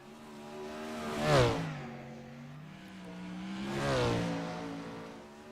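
Race cars at a night event of the DOB Ironman 55 racing on a track: two passes of a revving engine, each swelling loud then fading with a falling pitch as the cars go by.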